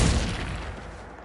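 The Confringo blasting spell cast in Hogwarts Legacy, a loud sudden blast at the start that decays into a long fading rumble over about a second, heard alone without talk.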